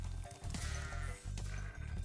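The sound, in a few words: goat bleating in Spyro the Dragon video game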